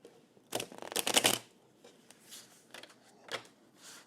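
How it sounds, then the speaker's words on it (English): Tarot cards are shuffled up close, a loud riffling burst followed by a few softer card slides and taps, with no talking. "One more shuffle real quick."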